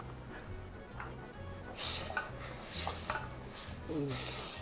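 Curry with snails and cha-om leaves at a boil in a pot, a low bubbling simmer under a few close stirring scrapes and light utensil knocks against the pot, quiet overall.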